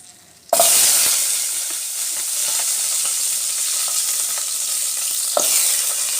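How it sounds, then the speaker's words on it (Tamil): Cut drumstick pieces drop into hot oil with a tempering of mustard seeds and curry leaves for sambar. After a quiet start, a loud sizzle bursts out and settles into a steady hiss with a few stirring clinks. "இப்போது கட் பண்ணி கழுவி வச்சுருக்க முருங்கைக்காய் போட்டுக்கலாம்."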